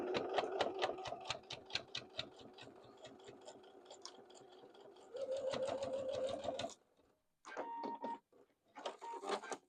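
A sewing machine stitches a seam on a fabric zipper pouch in rapid, even bursts of close mechanical ticking, pausing briefly, then running in shorter spurts near the end.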